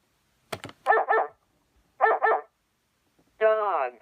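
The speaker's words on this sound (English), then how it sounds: "Dog is spelled D-O-G, dog." A dog barks alone in short, separate bursts: a sharp yip, then paired barks, and finally a longer, drawn-out whining bark.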